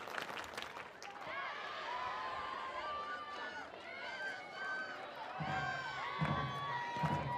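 Large crowd at a Mississippi State SEC opener college softball game, cheering and shouting steadily throughout, with commentators talking over it and louder bursts near the end.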